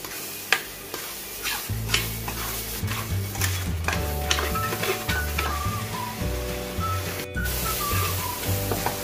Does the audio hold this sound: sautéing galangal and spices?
yes